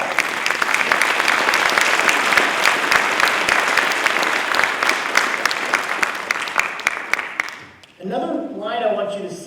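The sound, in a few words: applause at convocation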